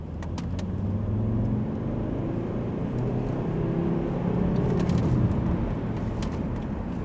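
A 2015 Volvo V70 D3 diesel engine hums low and steady from inside the cabin, a muted rumble that rises slightly as the car pulls ahead in second gear, with faint ticks above.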